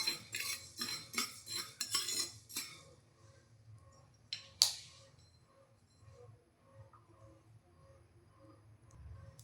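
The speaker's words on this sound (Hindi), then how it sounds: "अब हम धनिया को भूनेंगे।" Coriander seeds dry-roasting in a pan for red chilli pickle, with a metal spoon stirring and scraping in a quick run of clinks and rattles, then one sharp clank followed by softer, quieter stirring.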